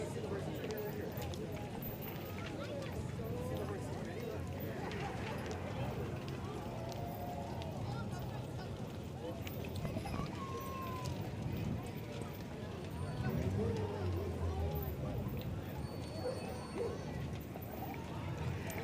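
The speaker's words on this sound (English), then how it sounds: "I love seeing the horses out with the old wagon" Horses pulling an old wagon in a holiday parade in Boise clip-clop steadily at a moderate distance, their hooves a soft rhythmic patter beneath constant crowd chatter and voices talking nearby.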